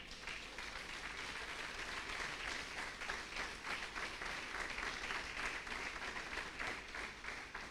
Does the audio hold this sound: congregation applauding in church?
yes